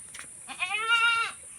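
A goat bleats once in a livestock shed, a single wavering call lasting under a second, fairly clear and close over a quiet background.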